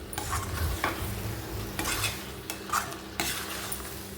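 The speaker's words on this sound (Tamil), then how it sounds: "இதே மாதிரி கிண்டிக்கிட்டே இருக்கணும்" Tomato pickle cooks in oil in a pan, with a low sizzle under repeated scraping stirs of a spoon against the pan.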